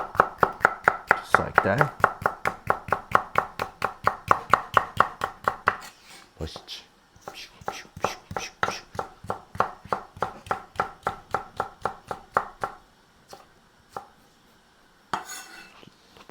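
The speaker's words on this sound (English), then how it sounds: "And now we're gonna chop up our green pepper." A knife chops green pepper on a cutting board in a steady run of sharp, close taps, pausing partway and then resuming, while a person speaks briefly over the rhythm.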